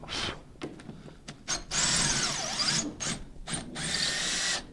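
Screws being worked out of the bottom of a sliding door, with repeated ratcheting, mechanical clicks and two longer grinding bursts, close and fairly loud.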